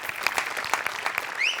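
Studio audience applause at a Marathi comedy show, a steady dense patter of many hands clapping throughout with a brief whistle-like tone near the end.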